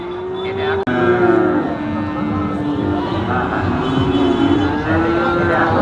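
Cattle moo loudly and repeatedly, a deep drawn-out lowing close by, with crowd chatter and general market noise filling the background at Dhaperhat cattle market, Bogura.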